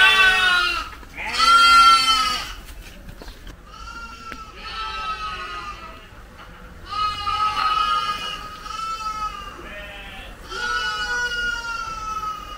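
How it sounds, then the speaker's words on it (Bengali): Sheep and goats on a dairy farm bleat repeatedly and loudly, several close calls overlapping in a steady series over quiet background noise. "এখানে ভেড়া এবং ছাগল থাকে।"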